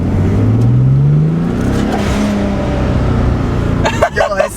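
Twin-turbo Nissan 300ZX with a newly fitted blow-off valve, engine droning loudly as it accelerates from inside the car, then sharp turbo whooshes near the end, with people talking over it.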